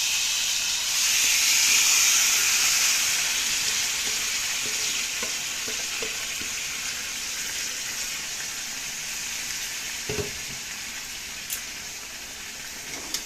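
Meat frying with cooked onions in a pan, a steady close hiss and sizzle that stays even throughout, with a few faint clinks of a utensil stirring.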